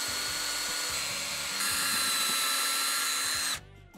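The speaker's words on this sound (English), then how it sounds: "So I'm going to pre-drill on both sides." A power drill whines steadily while pre-drilling holes in wood for support members, a high continuous motor tone with a slight shift partway, then stopping abruptly near the end.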